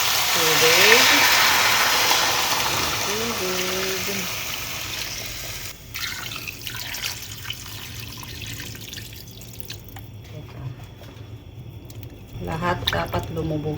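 Water is poured into a pot of oxtail and onion, splashing and sloshing loudly at first, then settling into softer drips and squishes while a person talks over it.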